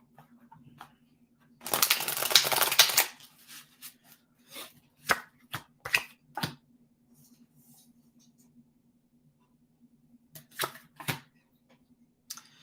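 Playing cards being thrown, heard as a burst of rapid riffling flutter followed by a series of sharp, scattered slaps and flicks against a quiet background with a faint steady hum.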